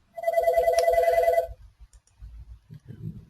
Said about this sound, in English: I'm sorry, guys, excuse the phone.